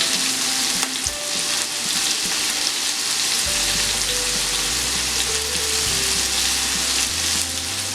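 Paneer pieces frying in a pan on their second side over medium gas, with a steady loud sizzle throughout and a low hum entering partway, no voices.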